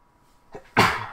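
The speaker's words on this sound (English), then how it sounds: "I'm about to sneeze here" A single sharp sneeze up close, preceded by a brief quick inhale, then fading out.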